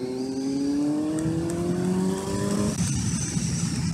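A Suzuki GSR 750 motorcycle engine revving up steadily, its pitch climbing over several seconds, then a gear change and continued loud, close acceleration with no talk.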